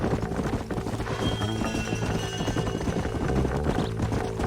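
Horse hooves clip-clopping at a steady walking rhythm in Red Dead Redemption on the Nintendo Switch, with game music and ambience playing beneath them throughout.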